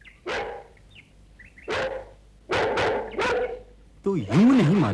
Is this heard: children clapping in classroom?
no